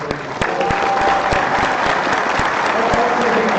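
A round of applause from the audience at a county Republican party executive committee meeting, a dense, sustained clapping of many hands filling the room at close range.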